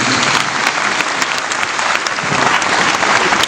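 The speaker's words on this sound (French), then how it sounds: "des applaudissements encore une dernière fois," A crowd at an International Day of the Seafarer ceremony gives a final ovation to honoured maritime veterans, with loud, dense, continuous clapping that stays steady throughout.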